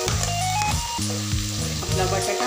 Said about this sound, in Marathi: आता मी घालणार आहे इतर भाज्या